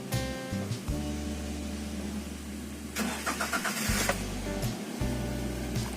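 A car engine cranks with a rapid starter whir, then catches and settles into a steady idle, a few sharp clicks and rattles mixed in.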